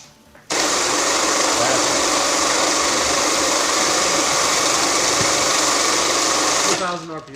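A robot's rotor mechanism spins up and holds at high speed, a loud continuous mechanical whine that cuts in abruptly, stays steady for about six seconds, then winds down.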